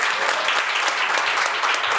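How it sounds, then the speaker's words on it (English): Brisk applause from a conference audience thanks the panelists at an Atlanta session, a continuous wash of clapping with no voices on top. "please join me in giving our great panelists a round of applause"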